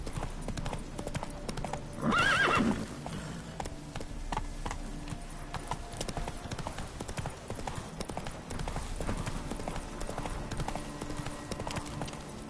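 A horse in The Witcher 3 video game whinnies loudly, then gallops with rapid, steady hoofbeats over a low game soundscape.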